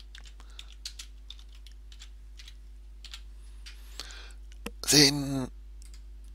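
A computer keyboard is typed on in soft, scattered clicks and taps at a steady working pace, with a short burst of speech near the end.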